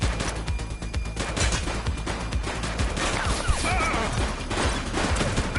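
Gunfire in the police video game The Precinct, a street shootout with dense rapid automatic bursts and overlapping shots, loud and close, with a brief faint shout partway through.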